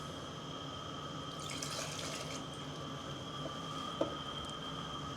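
Coffee poured over ice in a shaker for an espresso martini, a faint steady liquid trickle with a brief splash and a small clink near the end, quiet and close with no talking.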